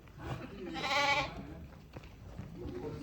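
Pregnant ewes and ewes with lambs bleat at a livestock sale, one clear bleat rising above low background murmur and farmyard noise.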